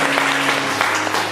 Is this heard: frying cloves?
no